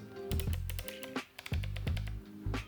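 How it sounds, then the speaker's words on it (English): A camera lens control ring clicks as it is rotated, giving a series of quick, close, crisp detents in short bursts with brief pauses between turns, and no talking. "this lens actually makes a clicking sound when you rotate it, which makes for more precise controlling of the ISO"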